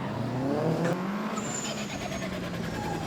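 A FormulaG drift car spinning through a 180 at Rockingham, tires squealing in long gliding tones over a roaring, revving engine, the pitch sweeping as the car rotates, fairly close and loud.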